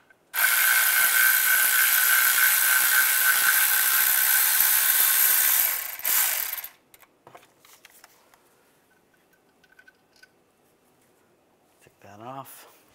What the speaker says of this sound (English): going to use a 10 millimeter socket. And this bolt up here.